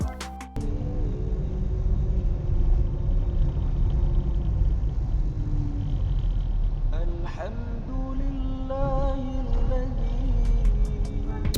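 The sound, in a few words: tyre road noise inside Kia All New Picanto cabin on rough road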